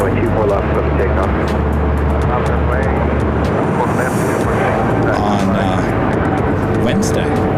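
A jet airliner takes off from runway 24 left at LAX, a loud, continuous roar with deep rumble, heard under someone talking over it.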